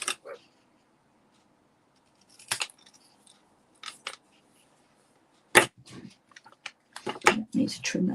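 Scissors cut printed Christmas paper decorations for a decorative tree craft. Sharp, separate snips come close and clear, in scattered bursts with quiet gaps between them.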